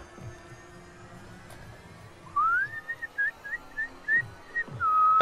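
A kid whistles a short, wavering tune of several rising and falling notes, clear and fairly close, over a murmur of background game sound.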